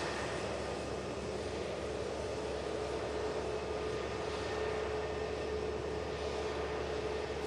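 Jet airliner engines roar steadily at Manchester Airport as a plane arrives from Luton, a continuous broad drone with a faint high whine, heard at a distance with no talk.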